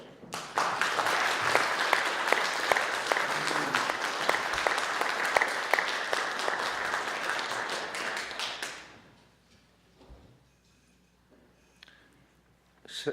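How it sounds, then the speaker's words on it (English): An audience at a Financial Policy Council meeting at CUNY gives a long round of applause, dense steady clapping for about nine seconds that then fades to quiet room sound. "Please stand up for big applause."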